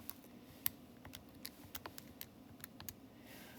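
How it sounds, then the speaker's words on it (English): Numbers being tapped into a calculator, a quiet, irregular run of about a dozen sharp clicks close by, with no one speaking. "So if we type that into our calculator,"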